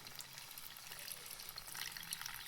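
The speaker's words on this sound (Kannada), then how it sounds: "ಈಗ ಇದರಲ್ಲಿ ಹಾಲು ಸೇರಿಸ್ಕೊಳ್ತೀನಿ" Milk poured into a pan sitting on a gas stove, a steady soft liquid splash and gush lasting a couple of seconds, fairly faint and with no talking.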